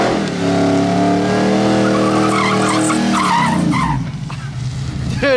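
A supercharged 427 GMC truck on sticky tires does a burnout, its loud engine roaring steadily with squealing, skidding tires, close and dominant, then dropping off near the end as a voice briefly cuts in.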